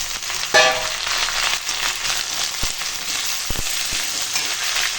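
Drumsticks and potato with onion fry in a pan as ginger-garlic paste and cleaned clams go in, a steady close sizzle with a sharp clatter near the start and a few soft knocks later.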